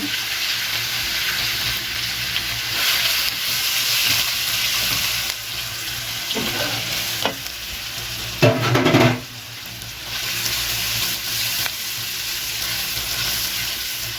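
Steady loud sizzling of onions and chillies frying in a hot pan, with a brief louder burst of crackling and stirring midway.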